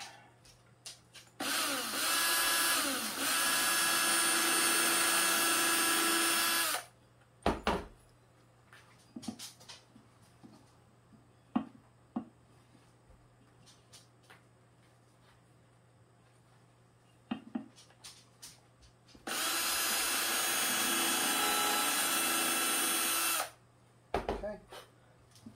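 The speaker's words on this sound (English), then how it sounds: "drill it in" Power drill driving into a carved wooden pumpkin tea light holder in two loud, sustained bursts several seconds long, with quieter handling clicks and knocks between them.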